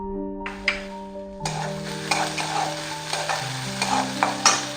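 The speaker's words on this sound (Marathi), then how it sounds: "कांदा थोडासा लाईटली गोल्डन कलर आलेला आहे, त्याला आपण त्याच्यामध्ये शिमला मिर्च घालून घेऊया" Onion and capsicum fry loudly in a pan for an appe recipe, a steady crackling sizzle with repeated scraping stirs, after a brief quieter start with a low hum.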